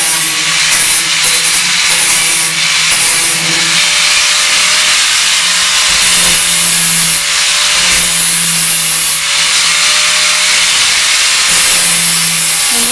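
Harsh, constant abrasive hiss of a tool deburring the cut edges and corners of a Renault Clio 1 roof, loud and unbroken with slight shifts in pitch as it moves along the metal.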